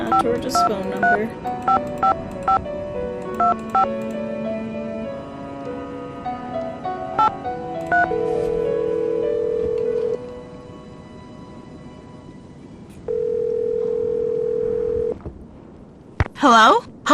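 Touch-tone keypad dialing a phone number in the Nancy Drew game Treasure in the Royal Tower: a rapid cluster of beeps, then two long, steady tones separated by a quiet gap, with a brief chirp at the end.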